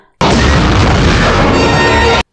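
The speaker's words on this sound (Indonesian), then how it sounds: "Apinya ngerambat sampai ke mobil wartawan itu lagi. Dan meledak." Car blowing up in the film Final Destination 2, a loud sustained roaring blast that starts abruptly, rumbles densely for about two seconds and cuts off sharply.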